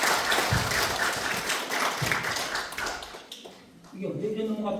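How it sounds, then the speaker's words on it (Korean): An audience at a women's college humanities lecture claps after a janggu drum performance, a dense, continuous patter of many hands at moderate distance that tapers off toward the end, when a voice starts speaking. "다시 한번 박수 한번"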